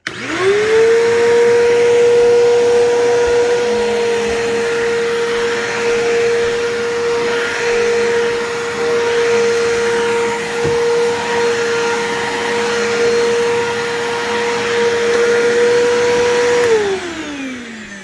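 A Bissell 3537 vacuum cleaner, freshly reassembled, spins up and runs loud and steady at close range with a sustained motor whine and airflow roar, then winds down at the end. No one talks over it.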